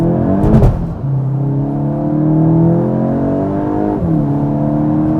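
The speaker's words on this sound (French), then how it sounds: "petit 0 à 100 sous piste mouillée" Volkswagen Golf 8 GTI accelerating hard from standstill to 100 km/h on a wet track, engine note climbing steadily through the gears with a short dip at each upshift, loud and close, no talking.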